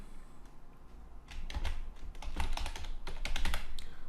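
Typing on a computer keyboard while writing a PHP script, with quick irregular bursts of key clicks that grow busier and louder after a quieter start, close to the microphone and with no talking.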